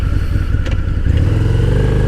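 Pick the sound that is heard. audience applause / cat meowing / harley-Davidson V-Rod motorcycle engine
harley-Davidson V-Rod motorcycle engine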